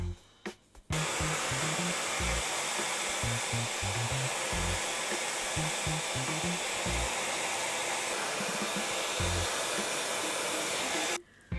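A hair dryer blows with a loud, steady roar, starting abruptly after a few faint bumps and cutting off at the end, rumbling from handling throughout.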